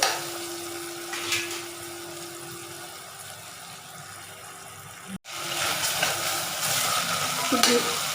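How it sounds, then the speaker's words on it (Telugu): Tomatoes cooking down in a pan, a steady soft sizzle with occasional stirring scrapes, a brief cut midway then louder frying sounds, no talking. "ఇప్పుడు టమాటీలు బాగా మగ్గాలండి"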